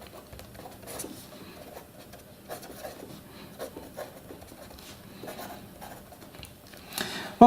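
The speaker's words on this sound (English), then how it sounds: "when writing with this pen right now" Parafernalia Big Revolution fountain pen nib scratching across paper, faint close scritches and soft taps in an irregular rhythm, with a louder knock at the end.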